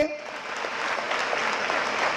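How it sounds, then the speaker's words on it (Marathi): An audience at a student career guidance event in Selu applauds for the guardian minister, a broad wash of clapping that builds after a short voice at the start and continues steadily. "एकदा टाळ्या होत्या माझ्या बाजूला पालकमंत्री मेघना दिदी आहेत आमच्या, त्यांच्यासाठी."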